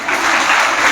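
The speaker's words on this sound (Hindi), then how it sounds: "इनके लिए भरपूर तालियां।" An audience at a Teachers Day programme at a school academy applauds a guest speaker, a brief, full wash of clapping from a crowd.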